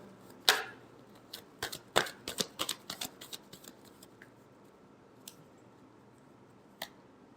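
Tarot cards are shuffled in a quick run of crisp riffling snaps and slaps, loud at first and then thinning to a few soft isolated flicks, close and alone.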